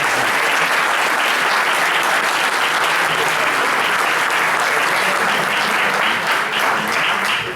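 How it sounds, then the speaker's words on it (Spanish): A room full of guests at a community book presentation applauds warmly and steadily for several seconds, a thick, continuous wash of clapping with no pauses. "yo pido un gran aplauso para Ingrid por este trabajo"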